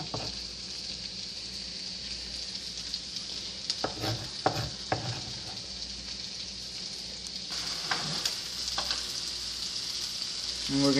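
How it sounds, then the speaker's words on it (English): Onions frying in a pan for shrimp fried rice, stirred with a utensil: a steady sizzle runs throughout, with several clear scraping and clacking stir strokes, heard close up with no talking. "And we're going to stir it around."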